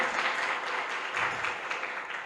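A church congregation claps together in a steady wash of applause during a homily, moderately loud and even, with no one speaking over it.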